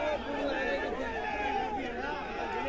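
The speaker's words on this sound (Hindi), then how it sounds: "काफी तादाद में समर्थकों की भीड़" A large crowd of party supporters chatters and murmurs steadily at a political welcome gathering, a dense wash of many voices close around with no single voice standing out.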